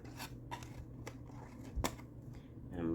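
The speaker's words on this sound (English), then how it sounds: "So I'm going to cut on this rectangle and wedge just a tiny bit." Scissors cut paper along a rectangle for a craft treat holder, heard as a few sharp, close snips spaced through the clip over soft paper rustling.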